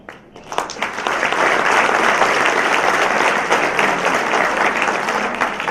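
An audience bursts into applause after a motivational talk, many hands clapping loudly and steadily after a brief ragged start.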